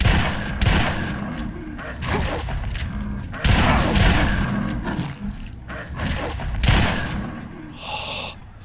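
A shotgun firing in Fallout 3: several loud, booming blasts spaced a second or two apart, each followed by a short decay, over a busy game background.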